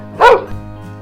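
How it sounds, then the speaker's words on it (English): A dog gives a single short, loud, close bark, followed by quiet. "You're a good dog."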